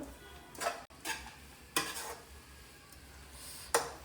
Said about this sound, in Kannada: ಕೊತ್ತಂಬರಿ ಸೊಪ್ಪು ಎಲ್ಲ ಹಾಕಿ ಮಿಕ್ಸ್ ಮಾಡುವ